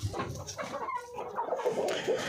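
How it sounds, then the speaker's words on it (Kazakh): A Brahma rooster clucks nearby in a low, steady run of throaty calls that continue throughout. "Брама әтешім міне менің."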